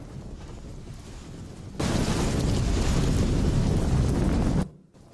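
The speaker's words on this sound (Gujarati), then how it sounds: "ગીર સોમનાથ જિલ્લામાં પણ ધોધમાર વરસાદ।" Heavy rain in Gir Somnath district comes in abruptly as a loud, dense, steady downpour hiss, then stops sharply near the end.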